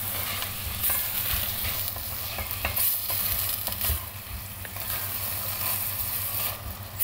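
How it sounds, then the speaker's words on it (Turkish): Food sizzles steadily as it is sautéed in a hot pot while a spoon stirs and scrapes through it, close and continuous. "Hep beraber şöyle biraz karıştırarak birkaç dakika kavuruyorum."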